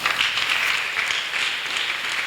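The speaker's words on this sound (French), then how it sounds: "On acclame." Audience applauding at a French-language religious gathering, a dense, steady wash of clapping throughout, fairly loud and continuous.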